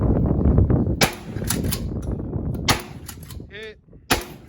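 Sharp gunshots crack at a shooting range, several spaced single reports standing out over a noisy background, with one shot ringing briefly.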